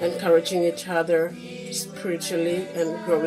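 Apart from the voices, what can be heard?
No everyday noise stands out behind the speech.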